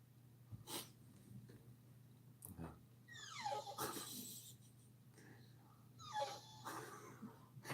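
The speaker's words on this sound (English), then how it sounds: "Archie, there's another dog at the end of this live stream." A dog on a live stream snorts, wheezes and breathes heavily close to the microphone in several short bursts, with quiet hum beneath and faint voices around it.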